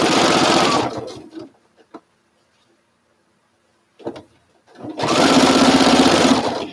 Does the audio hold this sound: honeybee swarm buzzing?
no